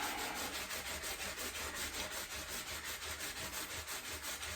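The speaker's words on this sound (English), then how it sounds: "take your scrubbing pad and scrub, scrub, scrub" A scrubbing pad is worked over a dug glass bottle in rapid, even back-and-forth strokes, a close, continuous rhythmic scratching with no voices.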